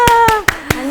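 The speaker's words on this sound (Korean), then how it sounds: "여러분 큰 박수 부탁드립니다" A studio audience claps for Taeyeon, several separate sharp hand claps spaced through one second, heard alongside a sustained voice.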